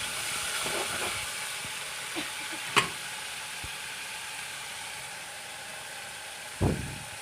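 Steady sizzle of spices being stir-fried in a pan for a teasel gourd (kakrol) fry, with a couple of sharp spatula knocks against the pan, no talking.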